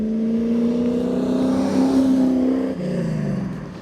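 A 1968 Pontiac Firebird pulls hard through the gears, its engine note climbing steadily then dropping briefly at a shift before rising again, loud and close with no talk over it.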